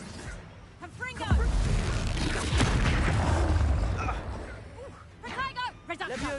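In the video game Hogwarts Legacy, a Confringo spell sets off a fiery explosion: a deep booming blast that rumbles for a few seconds amid combat effects, with a character's voice calling out spells around it.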